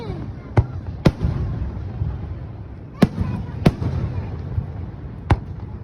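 A 2025 fireworks display in Japan sends five sharp, loud bangs at uneven intervals across a few seconds, each cracking over a rumbling, crackling background.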